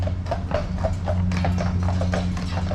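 Hooves of carriage horses tap out a regular trotting beat on the pavement during a carriage ride in Vancouver's Stanley Park. The clopping sounds fairly close over a constant low rumble of the carriage.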